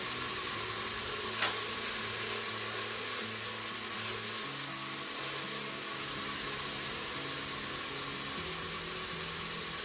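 Ginger frying in a pressure-cooker pot, a steady hiss of sizzling oil that holds evenly throughout under a low droning hum and a few faint clicks.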